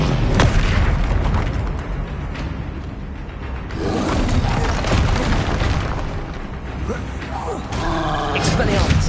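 Bombarda spell explosions in the Hogwarts Legacy video game, with several heavy booming blasts and crashing debris over a dense, busy battle din, mixed with shouted spell voices.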